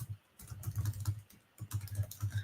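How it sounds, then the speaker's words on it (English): Keys on a computer keyboard clatter in quick close bursts, two runs of steady tapping separated by a short pause, with no voices. "I'm just typing it out as well."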